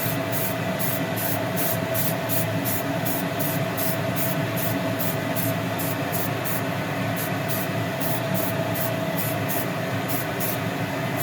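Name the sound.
spray paint being sprayed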